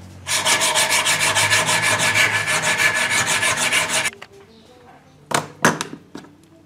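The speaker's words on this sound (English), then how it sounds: "works really good for hand sanding" Steady, rapid rasping of fabric-backed sandpaper scrubbed back and forth by hand over a wooden crankbait fishing lure, close and loud, then stopping, followed by a few scattered knocks and scrapes.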